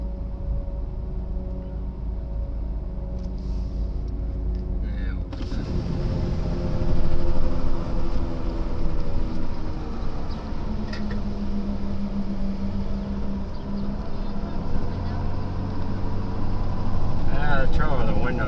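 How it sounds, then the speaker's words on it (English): Steady broadband road and wind noise fills a car driving with its windows down, a low engine drone underneath that swells louder partway through, with voices talking over it throughout. "The trouble with the windows down, it makes too much noise."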